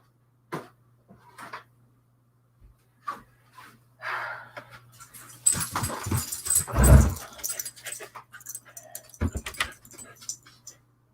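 A dog whimpers indoors in scattered short whines and snuffles, faint at first, then a louder burst of whining with shuffling and jangling before fading to soft intermittent sounds.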